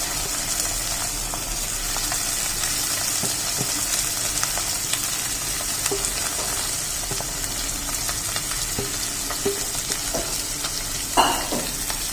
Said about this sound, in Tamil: நல்லா அந்த எண்ணெயிலையும் அந்த மசாலாலையும் இந்த மட்டனை நல்லா வதக்கிக்கணும்.